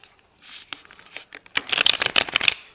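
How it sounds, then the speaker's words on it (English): A deck of tarot cards being shuffled up close, starting with a few soft riffles and slides, then a louder, rapid burst of crisp card flutters near the end. "I'll try to shuffle a bit on camera."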